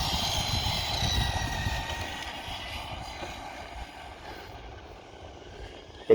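A Tamiya TT01 and a Kyosho Fazer Mk2 RC car race on a track, their electric motors making a whining buzz that fades steadily into the distance and ends with a faint click.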